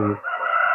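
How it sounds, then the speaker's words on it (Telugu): A rooster crows once, loud and close, in a garden setting, its call rising and holding steady to the end with no other sounds over it. "అదిగో కోడి కూత కూస్తుంది"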